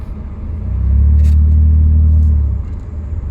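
A supercharged car engine accelerating on a test drive with a leaking fuel pressure regulator, a loud close rumbling roar that swells, holds and then eases off, with no talk.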